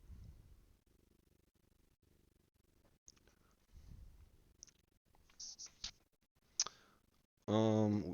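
A cat walking on a desk and pushing a computer mouse, producing a few scattered faint clicks and taps, with a person talking softly over it.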